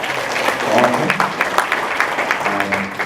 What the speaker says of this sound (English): And you can give an applause for that.